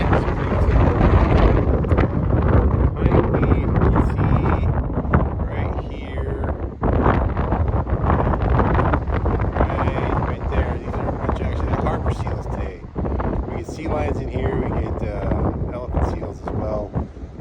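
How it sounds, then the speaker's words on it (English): Strong coastal wind at Goat Rock in Jenner buffeting the microphone in loud, roaring gusts, with a voice talking intermittently underneath. "It's pretty windy out here"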